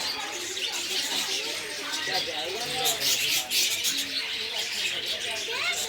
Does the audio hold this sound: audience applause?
no